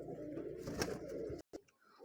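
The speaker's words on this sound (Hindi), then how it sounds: "मोहर लगा कबूतर है, उड़ा हुआ कबूतर है" Pigeons coo softly in a loft of Punjabi and Madrasi pigeons, low murmuring calls close by under faint handling noise, ending in a brief silence.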